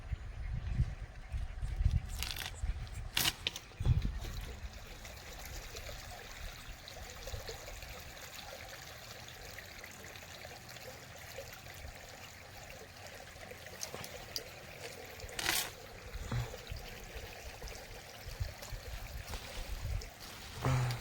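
Water being poured out while plants are watered outdoors in a village garden, a steady trickling, splashing flow with a few louder bursts, close by and continuous with no talk.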